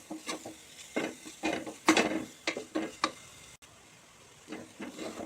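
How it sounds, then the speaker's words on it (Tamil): Tomato cooked with chili powder and sambar masala is stirred in a pan, a spatula scraping in irregular short bursts with brief pauses, fairly quiet and close. "சரி பச்சை வாசம் போகிற அளவுக்கு ஒரு அஞ்சு செகண்ட் கூட நல்லா வதக்கி விட்டுடலாம்"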